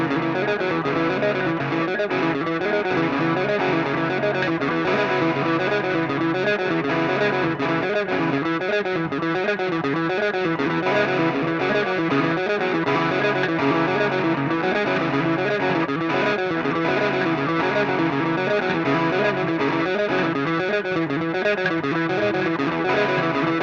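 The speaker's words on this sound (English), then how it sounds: "When the 2 guitars are combined, this is how it sounds." Two interlocking electric guitars with effects and distortion play fast, shifting patterns, a dense, steady wall of bright picked notes sustained throughout with no voices.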